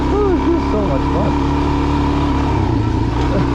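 A Suzuki DRZ dual-sport motorcycle lugs at low revs on a backcountry dirt route, giving a steady, loud, close engine drone throughout, with wind noise on top.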